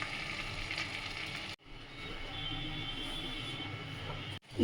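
Masala sizzles steadily in a kadai after a splash of water goes in while a Bengali sukto is cooked. The hiss is loud and close, breaks off briefly, then resumes.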